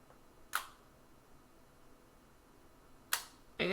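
An SLR camera shutter set to a two-second exposure fires in the quiet: a sharp click opens it, then after a gap of about two and a half seconds a second click closes it, followed by another crisp mechanical snap.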